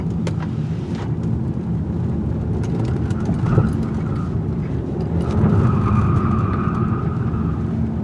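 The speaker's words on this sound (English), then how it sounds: "Let's see how this all-wheel drive performs on these wet circles." A 2021 Kia K5 with all-wheel drive drives on a wet circle track, its engine droning under road and tire noise, with rising revs and swelling rumble toward the end.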